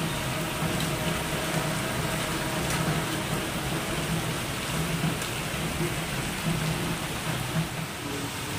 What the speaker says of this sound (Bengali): দেখেন বৃষ্টি প্রচণ্ড হচ্ছে, ঝড়ও হচ্ছে, বিদ্যুৎও চমকাচ্ছে